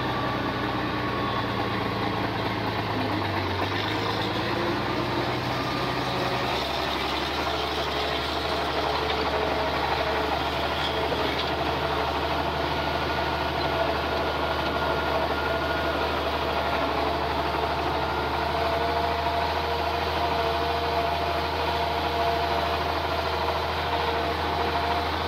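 An International Harvester tractor engine with a torque amplifier runs steadily in sixth gear, unloaded, a loud continuous low drone with a slight drop in pitch early on, then an even idle-like rumble with no talking.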